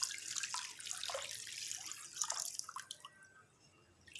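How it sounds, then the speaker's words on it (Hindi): Water poured from a glass into a mango drink mixture with ice, a bright, splashy trickle with brief gurgles that runs steadily and then thins out near the end. "ऐसे बर्फ़ डालने के बाद हम इसमें तकरीबन ये 2 गिलास पानी के डालेंगे"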